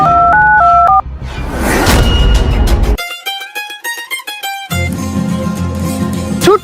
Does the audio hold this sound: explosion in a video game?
no